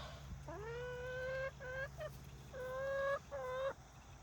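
Newly added chickens in a backyard flock give loud, close calls in two bursts of repeated harmonic squawks, with short pauses between them and no talking.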